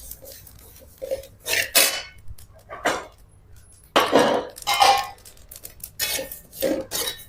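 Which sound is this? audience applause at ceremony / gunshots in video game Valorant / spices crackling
spices crackling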